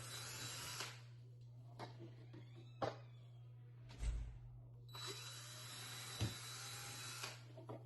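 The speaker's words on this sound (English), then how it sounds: "And then we're just going to drill." A power drill bores into foam while a craft lily is being made indoors, with short whirring bursts and one longer run against a low steady hum, faint and close.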